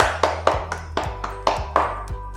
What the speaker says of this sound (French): je pense que je peux t'applaudir et que tu peux t'applaudir